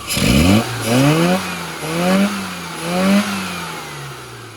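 A classic Mini with a 998 engine and stock SPI ECU ignition revs hard during tuning: a sharp first blip, then three rising-and-falling throttle sweeps, loud and close.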